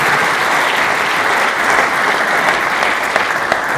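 Steady, dense clapping fills the room from an audience at a regional football trophies ceremony, a continuous warm roar of hands without a break throughout.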